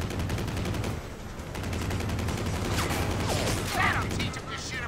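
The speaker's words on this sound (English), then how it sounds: "Somebody shooting at me." Rapid mechanical gunfire in the Stranglehold video game rattles steadily at moderate volume, with clicking bursts and a few whooshing effects layered through the action.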